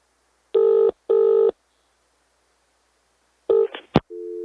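Two buzzy phone rings sound in quick succession, followed after a pause by a burst of clicks and beeps and a steady electronic tone.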